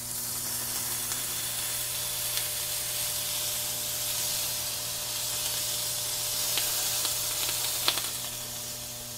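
A smash burger patty sizzles in butter on a hot griddle with a steady, bright frying hiss, plus a few faint pops and clicks of a spatula near the end.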